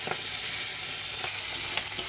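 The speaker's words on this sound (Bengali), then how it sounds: "এরকম মাছের মাথা ভাজা হচ্ছে" Fish heads sizzle and crackle in hot oil, a constant frying hiss with small pops scattered throughout.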